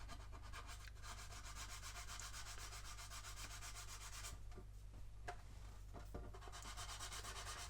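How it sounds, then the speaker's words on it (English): Sanding filler made of sprue goo on the transom of a 1/144 plastic model kit corvette, continuous close scratchy rubbing strokes, quiet and steady with a constant low hum beneath. "it's just a case of sanding down the sprue goo that I've used"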